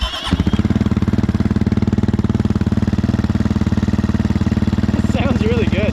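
A 2022 GPX FSE300R motorcycle fitted with an ARacer ECU starts on its first try and settles into a rapid, even idle, close and loud, with a voice coming in briefly near the end.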